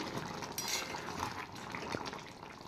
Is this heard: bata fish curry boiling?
yes